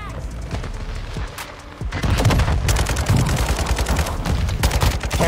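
Kastov 762 rifle fire in Modern Warfare II multiplayer, loud close bursts of rapid shots that grow denser and heavier in the second half, mixed with other battle noise.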